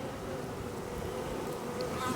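Honey bees buzz steadily around an opened hive during a spring inspection, a soft, continuous droning hum with no talking.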